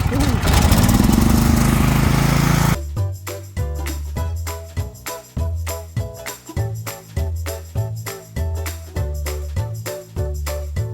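A small portable generator engine runs right after a choke start for RV battery charging, a loud steady chugging with rhythmic pulses following a burst of startup noise.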